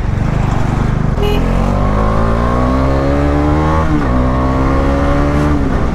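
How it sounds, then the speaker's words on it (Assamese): Road vehicle engine droning loudly and close, its pitch rising and dipping as it passes, over steady wind rumble from a moving motorbike. "আগত গাড়ী আহি গ'ল"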